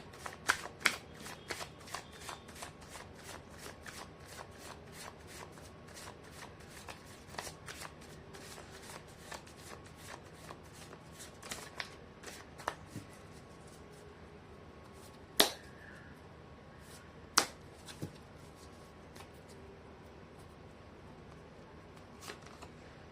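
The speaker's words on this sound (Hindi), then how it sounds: "मैं कर लेती हूँ कार्ड की शफलिंग।" Tarot cards are shuffled by hand in a long run of crisp riffling flicks and rapid snapping card sounds, with a couple of sharper snaps standing out, close and fairly quiet with no talking.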